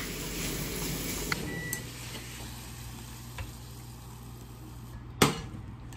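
Steady frying sizzle of rock oysters stir-fried in a pan with garlic, butter and soy sauce, occasional clinks and scrapes of a utensil stirring, one sharper knock near the end.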